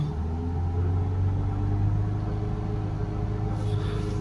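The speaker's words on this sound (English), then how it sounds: "Let's hold the revs up." A diesel car engine, checked for a recurring DPF fault, is held at a steady high idle around 3000 RPM, giving a constant close droning rumble with strong low harmonics and no talking.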